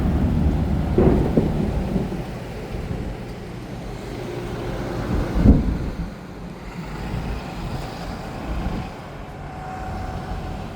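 Thunder rolls from a passing storm cloud with lightning, low rumbles building and fading over several seconds with a sharper crack near the middle, under steady rain and wind buffeting the microphone.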